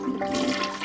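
Toilet flushing sound effect: a brief, loud rush of swirling water, close and steady throughout, with no talk.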